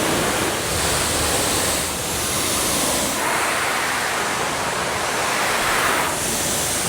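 A pressure washer rinsing a car gives a loud, steady broadband hiss of spraying water that holds constant throughout, close to the listener, with no talk.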